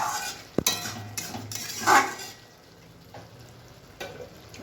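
A spoon scrapes and stirs bhetki fish bone curry with garam masala and a little sugar in a pan: one sharp clank, then soft scraping strokes over a gentle, quiet sizzle.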